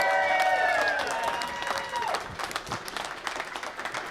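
A large crowd claps and cheers at a squash league draft event, loud applause at first that thins into scattered clapping, with a voice heard over it.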